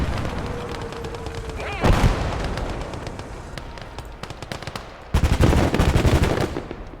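Gunfire and explosive tank fire in the war strategy video game Motherland, with steady shooting throughout and two loud heavy blasts, one near the two-second mark and a longer burst toward the end.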